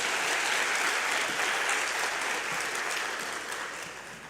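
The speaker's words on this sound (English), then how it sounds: "Give him another round of applause." A live tribute audience gives a full round of applause, steady dense clapping that gradually tapers off, fairly distant with no speech over it.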